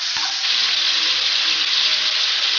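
Chicken pieces for chicken karahi frying in a generous amount of oil, a loud, steady, bright sizzle that continues without a break, close up and alone.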